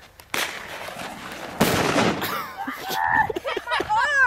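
Two sharp reports from a bird gun, one near the start and a louder one midway, followed by excited talk and shouting outdoors.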